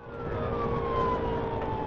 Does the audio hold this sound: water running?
no